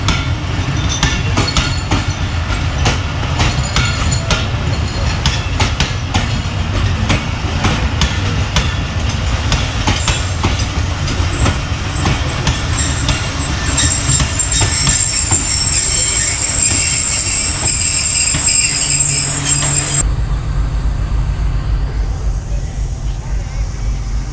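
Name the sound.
Hazara Express passenger train passing, wheels squealing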